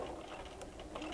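A sewing machine runs steadily as it stitches quilt fabric, a continuous close mechanical whir with fine rhythmic ticking, quiet and alone.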